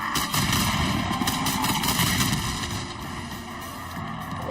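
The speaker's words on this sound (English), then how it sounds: "Oh shit, they got grenades this time." Dense, continuous gunfire and booming blasts fill a Call of Duty Black Ops 6 firefight, loud and sustained with grenade explosions mixed into the rapid shots, no talking over it.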